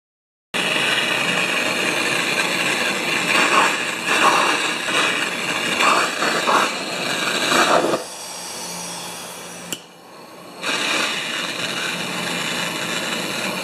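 Briggs & Stratton engine on a Craftsman mower running steadily and loud, its drone cutting out near the eighth second to a quieter idle, then a brief gap before the engine roars back up.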